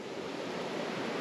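A shallow, fast-moving river rushes in a steady broadband roar, close and continuous, with no voices over it.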